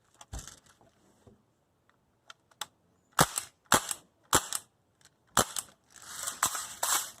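Umarex Tactical Force TF CQB CO2 airsoft AR rifle firing BBs: a string of sharp, loud pops, single shots at first then a faster cluster of reports and a rattling burst near the end, close by with no talk.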